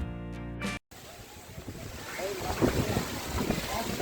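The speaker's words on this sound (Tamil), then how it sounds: "இங்கே செம்ம காற்று அடிக்குது" Steady wind buffeting outdoors at Aliyar Dam near Pollachi, broadband rushing noise with gusts, after a brief cut; faint voices and watery sounds underneath.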